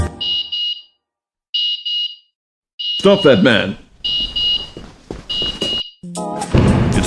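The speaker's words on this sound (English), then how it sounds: "Or you can activate the alarm manually." An Airbolt luggage tracker sounds its alarm in repeated high electronic beep bursts separated by short gaps, loud and close, while a voice shouts over the later bursts.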